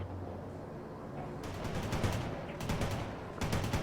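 A Bradley fighting vehicle fires in World in Conflict, with several bursts of rapid automatic gunfire breaking over a low rumbling battlefield backdrop, fairly quiet and distant.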